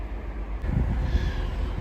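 Train departing a station on the Durham coast, a low rumbling roll that swells slightly, heard close from the platform with wind noise on the microphone.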